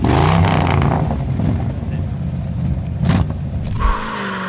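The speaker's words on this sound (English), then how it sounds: "With that power and that engine growl, the Charger SE is truly a piece of muscle car history." A 1969 Dodge Charger SE muscle car with a deep, loud engine growl and revving that rumbles throughout, with sharp bursts of throttle near the end.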